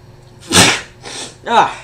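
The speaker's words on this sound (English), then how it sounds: "I'm gonna sneeze, I think." A single person sneezes sharply and close up, followed by a short voiced exhale, in a brief dry recording.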